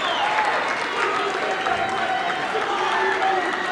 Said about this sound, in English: The crowd is on their feet here at Scotch Plains Fairmont High School.